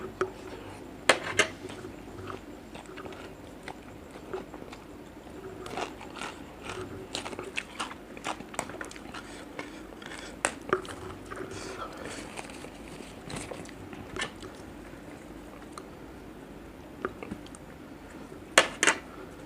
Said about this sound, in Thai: กินแคบหมูกรอบสุดยอดเลยครั